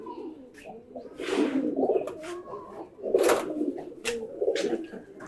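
Pet pigeons in a home loft with chicks coo close by in repeated throaty bursts, rising and falling over about five seconds against light background noise.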